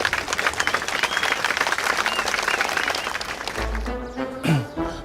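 A group cheers and claps loudly for the blue team at a playful games tournament, a sustained burst of applause that thins out toward the end as a voice breaks through.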